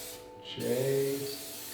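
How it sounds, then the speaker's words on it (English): A spray paint can hisses as it marks a wall during a demolition job, one steady burst of about half a second, fairly close, with no talk over it. "I got to do some of the spraying, and I got to put an X at my level."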